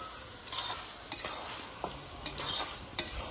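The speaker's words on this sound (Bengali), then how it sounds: "হলুদটা দিয়ে দিয়েছি, এবার নেড়ে চেড়ে নেব।" Fish head curry with turmeric stirred in a pan, a soft sizzle under light scraping strokes, with a few sharper clinks of the spoon against the metal standing out.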